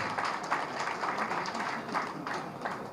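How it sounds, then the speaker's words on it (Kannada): Audience clapping at a Kannada film event stage as a noted Kannada story writer is welcomed, a steady dense patter of many hands lasting throughout without voices. "ಚಪ್ಪಾಳೆ."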